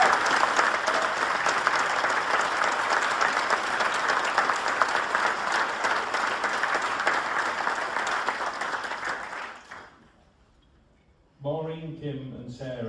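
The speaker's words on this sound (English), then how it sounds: "I think we need another round of applause" Audience applause at a charity fundraising event, loud and continuous clapping for about ten seconds that fades out, followed by a brief silence and then a voice starting to speak.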